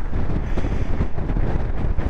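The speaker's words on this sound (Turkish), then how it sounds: "Öyle bir rüzgar var ki motoru tutmakta zorlanıyorum." Strong wind roars and buffets the microphone continuously, loud and rough, with no other clear sounds, on Mount Nemrut in Adıyaman, Turkey, hard enough to make a motorcycle difficult to hold.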